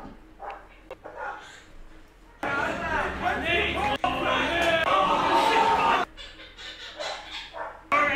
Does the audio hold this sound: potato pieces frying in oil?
no